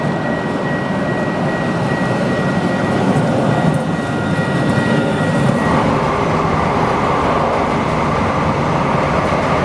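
Loud, steady rumble and rattle of a light rail train riding along the tracks, with a continuous roar and a faint tone that shifts partway through.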